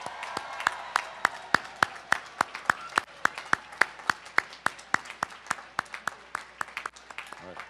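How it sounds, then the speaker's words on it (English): Applause from a North Seattle College commencement audience for faculty and staff: loud, steady, evenly spaced claps close by, over a wider spread of crowd clapping. "Can everyone please give our faculty and staff a round of applause?"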